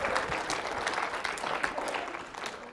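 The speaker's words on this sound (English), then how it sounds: "Golf clap." Light, scattered clapping from a small group in a workplace harassment training session, soft individual claps in an uneven patter, fairly quiet with room echo and no speech over it.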